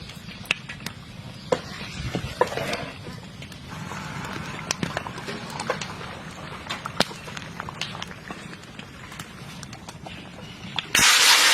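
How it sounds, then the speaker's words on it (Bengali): Fish frying in a wok over an outdoor stove gives a steady close sizzle with scattered sharp crackles and pops, ending in a louder hissing burst. "এখন আমি মাছ ভাজা শুরু করে দেবো"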